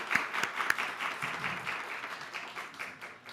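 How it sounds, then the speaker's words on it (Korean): A seated audience at the closing ceremony of a climate and environment leadership course claps steadily for a few seconds, moderate and fairly even, with a few sharper claps near the start. "격려하는 의미에서 박수 한 번씩 이렇게 치기 바랍니다"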